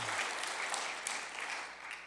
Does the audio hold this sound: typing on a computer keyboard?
no